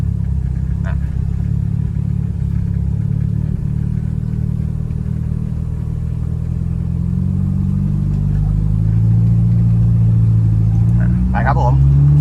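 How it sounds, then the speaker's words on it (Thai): A Nissan Sunny B11 car with a very loud exhaust drives along, a low steady engine rumble that rises slightly in pitch near the end, with someone talking over it. "เสียงท่อ ดังมากนะครับ"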